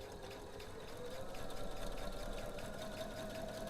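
Sewing machine running steadily as it stitches a quilt seam with the seam allowance under the presser foot, a fast even whirring rattle held close and fairly quiet for a few seconds.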